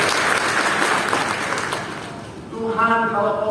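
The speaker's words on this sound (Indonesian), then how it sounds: "Tepuk tangan yang paling meriah buat Tuhan" A church congregation bursts into loud, sustained applause for God during a sermon, dense clapping filling the first stretch before fading as a voice and music tones rise near the end.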